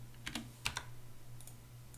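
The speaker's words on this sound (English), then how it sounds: "we can just copy and paste this function" A computer keyboard gives a few quiet keystrokes, two pairs of sharp clicks followed by a fainter tap, over a low steady hum, as a shortcut is pressed to copy and paste code.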